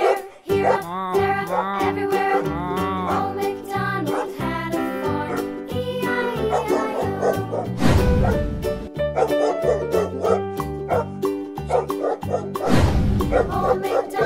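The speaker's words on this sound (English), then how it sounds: "Dog." Dog barks and yips ring out in short bursts over a bright, bouncy children's music track, several calls spread across the clip, fairly close and clear with no talk.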